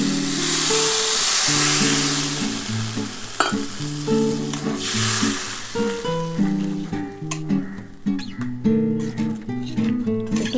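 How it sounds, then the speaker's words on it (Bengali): Water poured into sizzling mustard masala in a pan for parshe fish curry sets off a loud burst of hissing steam and sputtering, which settles into bubbling with clanks of stirring. Music plays underneath. "এবার আমি কিন্তু জল দিয়ে দিচ্ছি।"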